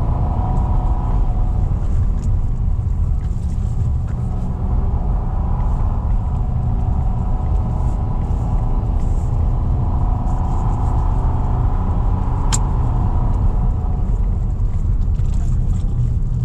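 2024 Nissan Almera VE engine held at high RPM in L gear, a steady loud droning rumble from inside the car that stays constant, with faint clicks over it.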